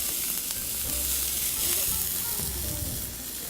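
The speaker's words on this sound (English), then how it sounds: "my oil is very, very hot here. Just gonna hold that pan for a little bit. All right, now I'm gonna add my onions." Red onions hitting very hot oil in a pan, an immediate loud hissing sizzle that holds steady throughout, close up, with faint stirring and no talking.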